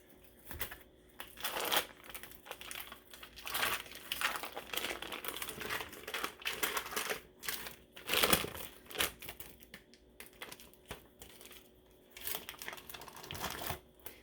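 A whisk scrapes softened cream cheese off its foil wrapper in a kitchen, making quiet, close crinkling and rasping strokes in uneven bursts with short pauses between them.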